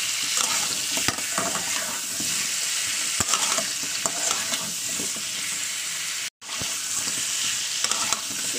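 Potato and green banana pieces fry in hot oil over low gas, sizzling loudly and continuously as a spoon stirs and scrapes through them, with a brief drop to silence partway. No voices are heard.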